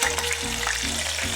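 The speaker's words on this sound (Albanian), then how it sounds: "Filetën e pulës e kemi gati, është skuqur" Chicken fillet frying in a pan over medium heat, a steady close sizzle with a faint stirring scrape, no voices.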